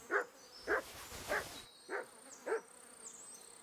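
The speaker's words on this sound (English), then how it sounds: "Mud is barking" The dog Mud barks in Kingdom Come: Deliverance II, five evenly spaced, moderately distant barks over a quiet buzzing ambience.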